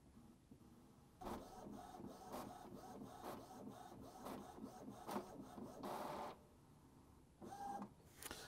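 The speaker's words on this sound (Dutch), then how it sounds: "En dan druk ik op print." An Epson Expression Home XP-205 inkjet printer prints a page nearby, with a steady mechanical whir broken by repeated clunks and rasping bursts as the paper feeds and the print head shuttles.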